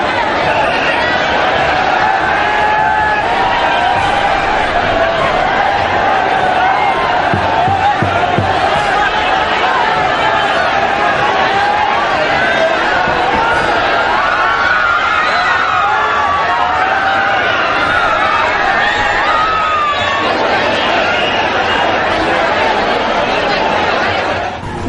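A dense crowd at a Dahi Handi competition in Amravati produces a loud, continuous roar of shouting and chatter that surges through a police charge on the gathering.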